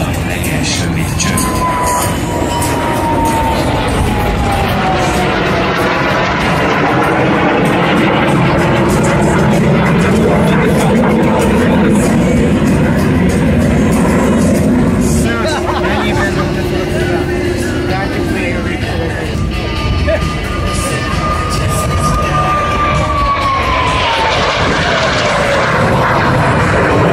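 L-29 Delfin jet aircraft at a Hungarian air show, a loud steady jet roar with rising and falling whine passing overhead, while an announcer speaks over it throughout.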